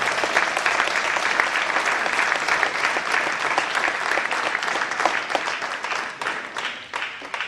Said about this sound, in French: Merci d'applaudir Satya Ganasekaran.